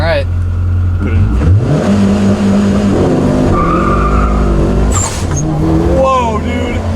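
A 550 hp E85-fuelled Evo 9 launches hard with the clutch dumped, engine roaring loud and close as the tires spin and squeal, the revs climbing with rising whines and turbo blow-off chirps while people talk over it.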